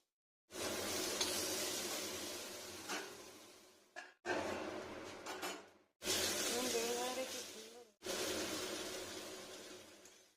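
Eggplant slices fry in oil with a mustard-seed tempering, giving a steady close sizzle broken into four bursts with short gaps, as if the pan is stirred or the pieces are turned; a voice is faintly present.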